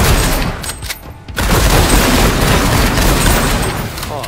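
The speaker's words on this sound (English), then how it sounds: "Oh, I love shooting." Heavy gunfire and explosions from the sci-fi shooter game Space Punks rattle continuously and loudly, with a short lull near the first second before dense bursts and booms resume.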